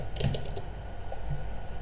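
Quiet, rapid typing on a computer keyboard, a brisk patter of soft key clicks close by with no talking.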